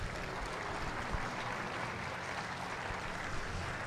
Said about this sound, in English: Let's have a round of applause for our host school and our sponsors.